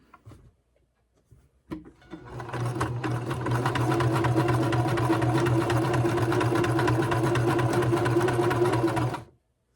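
A sewing machine stitches pieces of a wonky log cabin quilt, a couple of clicks and then a steady, close, rapid mechanical whir that runs for several seconds before stopping abruptly.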